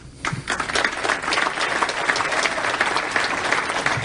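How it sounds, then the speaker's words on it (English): Dense, loud audience applause rises quickly and holds steady for about four seconds at a tribute event honoring Rush Limbaugh, with no voices over it. "I told Cookie to cut the applause there"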